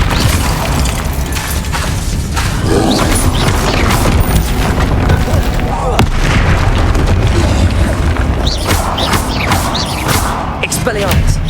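Repeated Bombarda blasting spell explosions in the video game Hogwarts Legacy, loud booming bursts and sharp cracks in a busy, dense stretch of combat sound, with spoken voices mixed in.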